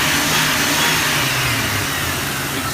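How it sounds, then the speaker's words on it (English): A lifted Jeep Cherokee XJ Sport engine revs up loud and close, a broad steady roar that holds high and then eases off slightly, with no voices over it. "Let me go ahead and rev this for you guys."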